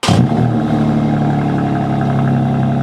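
BMW M2 Coupé G87 from 2025 with the M Racetrack Package and its sport exhaust switched open, giving a loud, close, steady engine drone after a brief rev at the start, with no talking.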